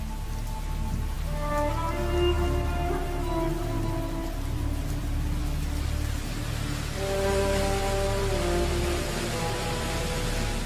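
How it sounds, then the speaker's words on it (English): Steady monsoon rain pours over the Himalayas in a continuous, even hiss, with faint tonal music sitting low beneath the downpour. "For about 3 months, it pours. In some areas, hundreds of inches of rain can fall during the season."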